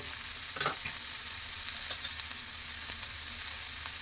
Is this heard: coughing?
no